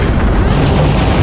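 Smart bomb explosion in the Star Fox video game, a dense low rumbling boom that fills the whole moment, loud and sustained without a sharp attack.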